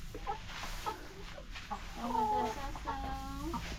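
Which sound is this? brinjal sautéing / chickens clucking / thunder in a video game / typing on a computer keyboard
chickens clucking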